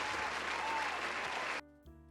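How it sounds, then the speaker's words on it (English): A burst of applause sound effect plays during a live online illustration portfolio review, a dense, steady wash of clapping for about a second and a half before cutting off abruptly, leaving a faint low hum. "I'm gonna play this applause thing again"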